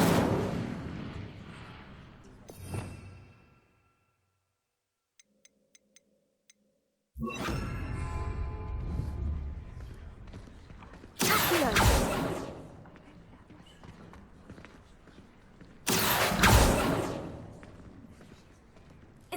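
A fire spell cast in the Hogwarts Legacy video game bursts out as loud, sharp whooshing blasts, several strong bursts separated by quieter stretches and a near-silent gap with faint ticks.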